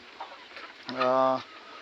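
A single broody village hen sitting on eggs gives a short, nasal clucking call, close and clear over faint background noise.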